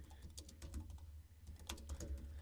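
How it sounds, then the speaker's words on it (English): Rapid clicking of fingers typing on a computer keyboard, close and steady with uneven bursts of keystrokes and no voices. "if I go a little bit quiet, it's just because I'm typing"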